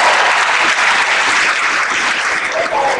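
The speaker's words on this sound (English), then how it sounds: "Another round of applause." Loud, dense audience applause at a Patriot Day concert, continuous clapping from a large crowd held at an even level throughout.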